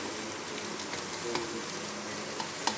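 Onions frying in a pan for a spicy vegetable dish, giving a steady close sizzle with faint scattered crackles and an occasional light scrape, no voices.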